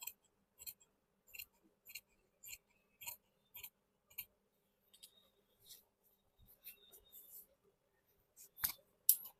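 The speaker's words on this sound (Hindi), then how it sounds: "अभी हम लोग इसे काट के इसी को बैठा के और एक पल्ला काट लेंगे।" Scissors snipping through pillow cover fabric during a sewing class, a series of short, crisp cuts in irregular bursts, close and fairly quiet with pauses between strokes.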